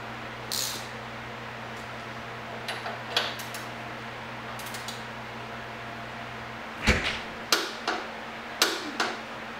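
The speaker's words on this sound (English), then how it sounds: "Now we just got to torque down to spec the axle nut." A standard torque wrench tightens the axle nut on a Road King motorcycle to spec, giving sparse metallic clicks and ratchet taps up close over a low steady hum, with a few sharper clicks near the end.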